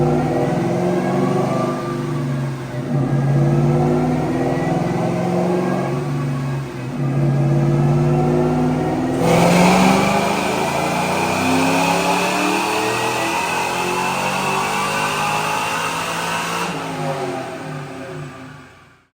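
A tuned car fitted with a 2.1 non-intercooled KB supercharger does a hard fourth-gear pull, its engine loud and close, revving and climbing steadily with a brief shift in tone partway through before easing off at the end.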